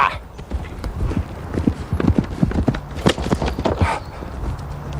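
Horse hooves pounding on the ground during a medieval lance charge, a quick irregular run of thuds and clip-clops, close and loud, with a brief shout or breath mixed in.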